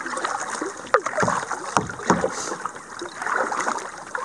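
Canoe paddling on the Salmon River near the Pacific coast, with repeated soft splashes and drips as the paddle dips and pulls, close by over a steady wash of moving water and light wind.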